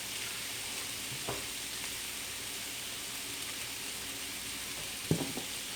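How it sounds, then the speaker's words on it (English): A tablespoon of butter melting in a very hot pan, giving a steady, even hiss and sizzle throughout, with a couple of soft clinks and taps, no voices. "I'm going to get my tablespoon of butter. And I'm going to let that melt."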